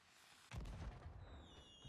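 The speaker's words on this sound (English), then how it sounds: "And let's load him up. And then use the cannon." A ship's cannon fires in the pirate video game Sea of Thieves, one deep booming blast followed by a rumbling tail, fairly faint in the mix.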